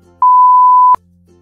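A timer marking the start of a cotton ball challenge gives one loud, steady electronic beep lasting under a second, clean and alone.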